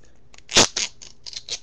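A few short tearing rips of duct tape, one sharp and loud followed by several smaller quick tears, close up with no talking.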